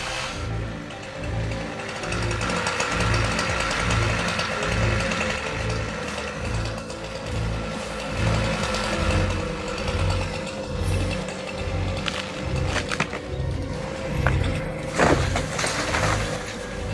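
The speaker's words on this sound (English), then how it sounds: "One of them expertly wields a chainsaw, cutting strategically around the trunk" A chainsaw cuts around the trunk of a large, towering tree in an open field, its engine droning continuously with a steady pulsing rumble, near and fairly loud, with a few sharper cracks toward the end.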